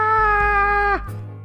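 A cat in the video game All Cat Traz lets out one loud, drawn-out pained yowl that holds steady and then bends sharply downward before breaking off, over a low game hum, with no speech.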